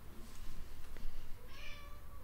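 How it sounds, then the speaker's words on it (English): A pet cat meows in a brief, high cry near the end, fairly faint beneath a low background hum indoors. "And my cat is screaming."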